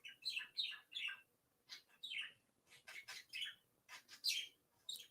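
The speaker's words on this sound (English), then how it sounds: "Yeah, it's a big bird." A large pet bird chirps and squawks in a series of sharp, high calls, about a dozen bursts in quick, uneven succession, moderately close with no talking.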